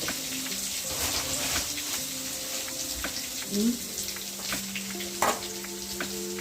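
Crushed ginger garlic paste frying in a hot pan for mutton brain thokku, a steady close sizzle with a few sharper spits and stirring knocks throughout.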